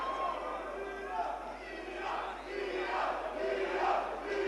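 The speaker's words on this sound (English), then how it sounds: "You can hear the crowd picking up" Boxing crowd at a live fight night, a murmuring, rising mass of voices and shouts swelling in waves, heard somewhat distantly beneath a commentator's voice.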